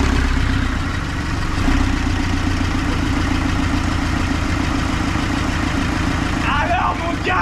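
A Nissan Pathfinder with a newly replaced engine idles smoothly and evenly up close, a steady low engine hum, with a voice briefly speaking near the end.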